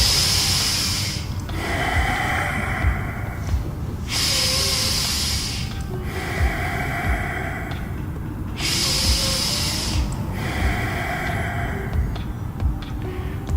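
Bhastrika pranayama breathing with forceful exhalations: long, loud, hissing breaths heard up close, alternating in a slow, regular cycle of inhale and active exhale every few seconds.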